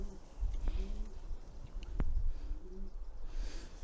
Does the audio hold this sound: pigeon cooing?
yes